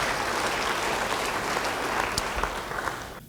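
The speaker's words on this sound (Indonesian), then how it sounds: "Yang mau beri tepuk tangan bagi dia." Applause from a church congregation, steady dense clapping at moderate level throughout, tapering slightly toward the end.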